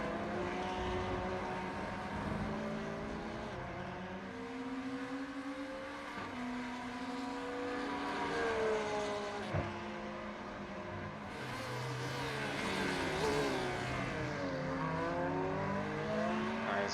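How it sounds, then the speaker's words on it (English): A Porsche GT3 race car in the iRacing sim at Circuit of the Americas drones and climbs through revs, repeatedly bouncing off the rev limiter in a sustained, wavering engine whine with shifting pitch. "a fair bit of rev limiter going on from that Porsche from the sounds of things"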